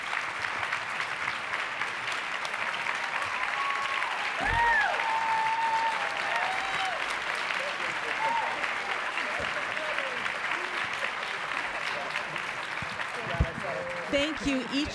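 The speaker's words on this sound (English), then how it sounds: "Let's give a round of applause for our panel." Audience applause for the panel at the 2019 NW Children's Foundation Forum, sustained crowd clapping at moderate level with voices and brief whistles rising through it.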